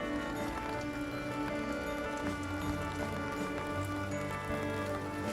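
Rain falls steadily through a rainy day in Austria, a dense continuous patter with no breaks, heard alongside a faint steady tonal hum in the background.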